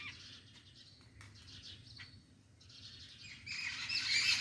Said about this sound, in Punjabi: ਦੇਖੋ ਕਿੰਨੀਆਂ ਸੋਹਣੀਆਂ ਆਵਾਜ਼ਾਂ ਆ ਰਹੀਆਂ ਪੰਛੀਆਂ ਦੀਆਂ